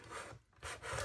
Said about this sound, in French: on va venir marquer les plis